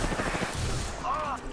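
Rapid gunfire in Apex Legends, a quick burst of close sharp shots in the first half followed by whooshing and weapon effects, with game voices in the mix.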